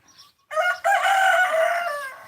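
A farm rooster crows loudly and close, one long drawn-out cock-a-doodle-doo that rises and holds before trailing off, preceded by a faint short cluck.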